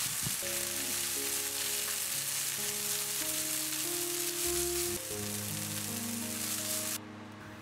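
Bean sprouts and leafy greens stir-fried in a hot oiled wok, giving a steady close sizzle with soft tossing under background music, which drops out near the end.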